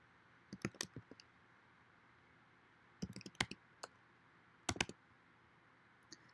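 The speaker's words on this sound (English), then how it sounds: "you're gonna type in Fastlane under the notes." Fingers type a short word on a computer keyboard in a quiet room, producing three small bursts of crisp, close key clicks separated by pauses.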